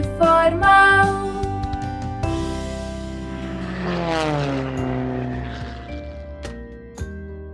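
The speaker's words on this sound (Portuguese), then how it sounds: "Léo e Lully no seu avião. Por entre as nuvens ele decolou." A cartoon airplane flies up through the clouds, its propeller drone rising and falling in pitch beneath bright, sustained music.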